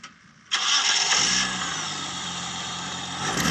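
A 3-litre V6 car engine starts with a sudden loud catch, then settles into a steady, close idle for a few seconds.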